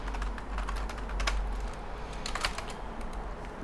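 Rapid clattering keystrokes on a computer keyboard while working at a Linux command line, a dense run of close taps with a few louder bursts over a low background hum.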